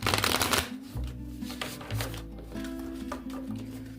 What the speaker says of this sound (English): Shuffle these brand new cards and see what comes out.